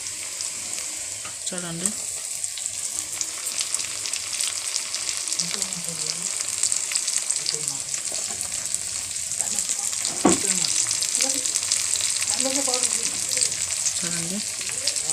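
Tomatoes sizzle and fry steadily in a pan for potato curry, a continuous close crackling hiss with occasional stirring, while a voice speaks briefly over it.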